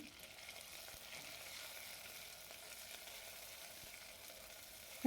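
Cumin, mustard seeds, green chili and garlic paste fry in a pan with a faint, steady hiss and crackle, ending in a sudden sharp clatter.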